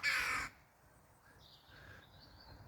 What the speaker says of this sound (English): birds going over screeching